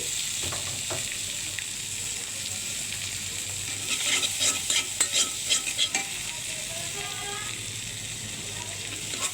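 Green chillies and tomatoes fry in a pan for pasta, giving a steady sizzle while a spatula scrapes and stirs in a run of rhythmic strokes midway.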